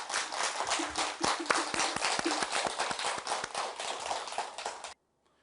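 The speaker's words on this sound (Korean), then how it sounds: "뜨거운 우리와 같은 박수를 한번 쳐주시기 바랍니다" An audience at a Buddhist temple talk claps hard together for several seconds, a dense run of sharp, rhythmic claps that ends abruptly in silence.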